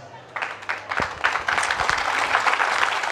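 Audience applause at an inauguration ceremony for a centre in Kpalimé, starting faintly then swelling into sustained, dense clapping from a crowd that carries on to the end.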